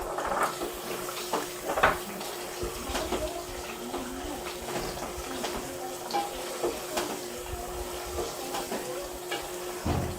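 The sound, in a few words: frying potatoes and yogurt in a pan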